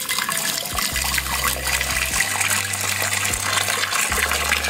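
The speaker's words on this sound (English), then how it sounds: "I'm going to pour hot water in this pot." Boiling water being poured from a vessel into a pot, a steady continuous splash and gush of liquid with low tonal hum beneath it, with no talking.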